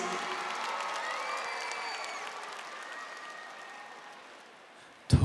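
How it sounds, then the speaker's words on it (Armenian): Audience applause at a live concert for the singer's father, a dense steady wash of clapping from a large crowd that slowly fades before a loud burst at the end. "բարձր ծափարում ենք հայրիկիս"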